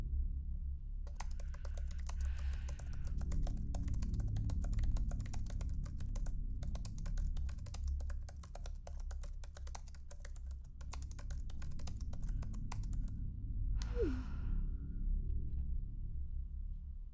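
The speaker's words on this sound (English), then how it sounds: "she was typing and then she didn't" A woman types a message on a computer keyboard, a quiet steady run of rapid key clicks that pauses, resumes, then stops, over a low background hum.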